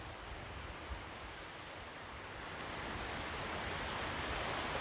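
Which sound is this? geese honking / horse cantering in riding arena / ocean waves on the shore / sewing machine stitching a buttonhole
ocean waves on the shore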